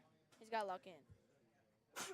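A person speaks briefly, then a quick, sharp sneeze follows close by at the end.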